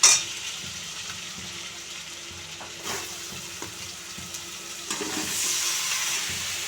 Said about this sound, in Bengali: এবার নাড়িয়ে নেব, নাড়িয়ে